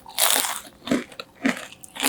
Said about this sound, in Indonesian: pastel ini sangat kriuk dan tidak mudah melempem